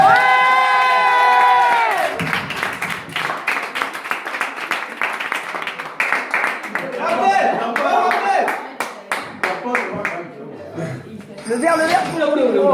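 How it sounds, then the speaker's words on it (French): Crowd at a Festicannes event bursts into cheering, clapping and whoops, with children shouting, loud and sustained after a few seconds of speech, the noise swelling and fading over about ten seconds. "On va nous applaudir."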